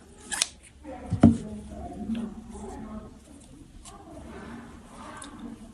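Scissors snip through crochet yarn once, a sharp close cut standing out in an otherwise quiet setting with faint handling noise.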